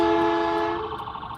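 An ambulance siren wails loud and steady with a strong sustained tone, then falls away and wavers near the end.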